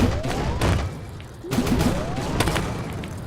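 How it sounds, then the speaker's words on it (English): Tank shells strike rock and concrete houses in a Unity game demo, giving sharp explosive impacts with rumbling tails, roughly two or three heavy bursts over a low engine bed. "I also added sounds when the shells hit the rock. And also when the shells hit the concrete houses."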